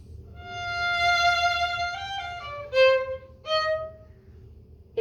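Violin playing up bows that swell suddenly loud and accented, sustained bowed notes shifting pitch with sharp attacks, close and solo over a faint low hum.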